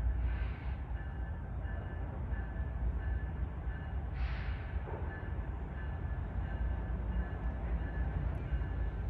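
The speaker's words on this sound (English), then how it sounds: "This is the third train in 14 hours." A CSX freight train rolls through on street-running tracks, a steady broad rumble with grinding rail noise filling the whole stretch at close range, two brief high squeals rising over it.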